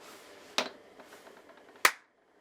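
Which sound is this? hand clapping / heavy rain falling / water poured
hand clapping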